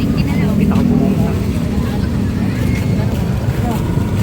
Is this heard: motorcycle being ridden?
yes